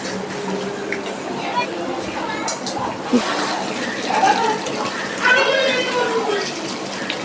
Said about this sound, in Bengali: আমি চিকেনটা সিদ্ধ করে যে জলটা বেরিয়েছে তো জলটা আমি এখন দিয়ে দিচ্ছি এর মধ্যে